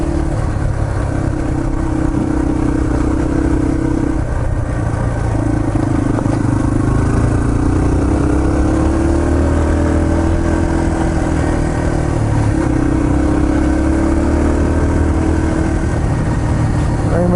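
A Yamaha TT-R230 motorcycle engine drones loud and close, its pitch rising steadily as it accelerates, with constant mechanical roar and no clear talk over it.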